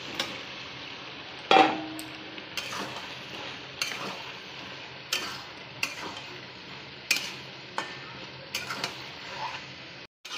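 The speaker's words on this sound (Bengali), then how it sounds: "কাঁঠাল আমি মশলার মধ্যে ভালো করে কষিয়ে নিয়েছি" Jackfruit being stir-fried in a pan of spice masala with Kashmiri chilli powder, a soft sizzle broken by repeated spatula clanks and scrapes every second or so.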